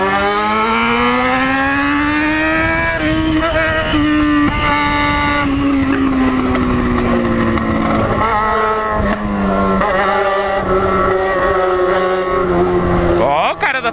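Loud droning engines with shifting pitch as several motorbikes ride past close by, a continuous roar of traffic that swells and fades.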